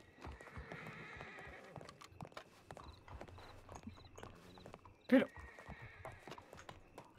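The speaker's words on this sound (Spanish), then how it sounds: "Un caballo." A horse in the video game Red Dead Redemption II clip-clops with steady hoofbeats, then gives one loud whinny near the end, while someone speaks briefly over it.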